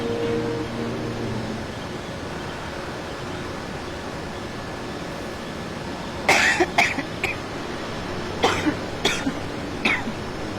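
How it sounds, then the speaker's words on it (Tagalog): A person coughs several times in short, harsh bursts, starting about six seconds in with a cluster of close coughs and followed by a couple more, over a steady low hum. "may ubo ka ba?"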